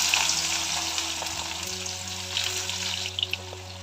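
Chopped onions sizzle with spices in hot oil for a fish-head muri ghonto, a steady close crackling fry that holds for about four seconds with small pops near the end.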